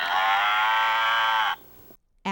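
Cattle mooing in a barn, one long loud sustained moo that breaks off, followed by brief silence and the start of another call.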